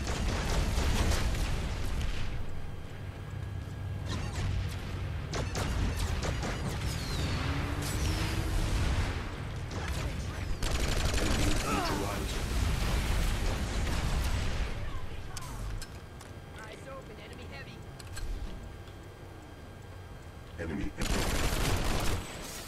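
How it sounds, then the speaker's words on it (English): Gunfire from a PS4 shooter game, shotguns among the weapons, comes in loud repeated bursts and booming blasts with a few brief pauses. A voice talks over it. "Stupid ass shotguns. I hate shotguns."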